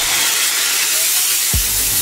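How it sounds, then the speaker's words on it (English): A portable multifunction steam washer for car detailing gives off a loud, continuous hiss of steam throughout, bright and close, with a short low thump near the end. "I'll just show you how the steam comes out and how it is useful to us."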